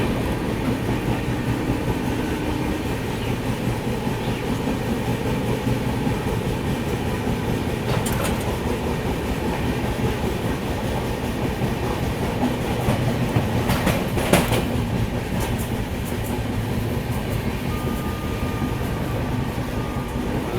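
The Poorva Express passenger train runs on rails with a steady, loud, continuous rumble and clickety-clack of wheels throughout, plus a few brief rattling bursts midway.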